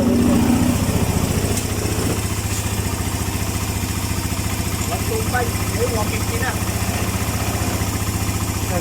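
A Suzuki GS125 motorcycle converted to 150cc idles smoothly and close by, a steady, even putter with a regular low beat and no knocking, while faint voices murmur in the background.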